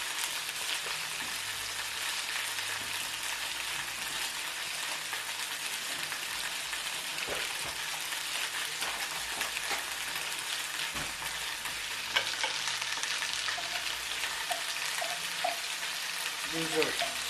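Flour-coated stew meat browns in a pot with a dense, continuous sizzle and crackle, close and steady throughout, with a few soft knocks of stirring near the end.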